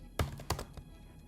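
A few quick clacks on a computer keyboard, two firm taps followed by a lighter third, close and quiet with nothing else over them.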